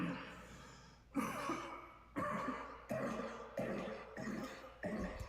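A person coughing in a played video, a series of about six harsh, heavy coughs spaced roughly a second apart, each trailing off, fairly close.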